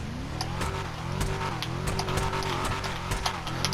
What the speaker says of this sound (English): Kind of a metallic blow off or backfire.